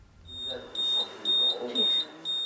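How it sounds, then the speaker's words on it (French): A fire alarm sounds during a surprise evacuation drill, repeating a steady series of high electronic beeps in regular pulses, moderately loud over a faint room background. "17h précise, l'alarme retentit."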